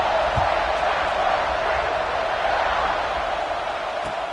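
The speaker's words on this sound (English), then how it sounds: "this crowd is buzzing after that last score" A large football stadium crowd keeps up a dense, continuous roar after a touchdown, steady and loud throughout, with no distinct cheers standing out.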